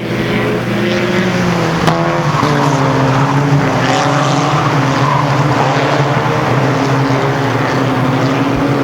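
Race cars of a topless racing class howl steadily around the oval at Ogilvie Raceway, a loud, continuous blend of several engines rising and falling as the field charges out of a turn, with no talk.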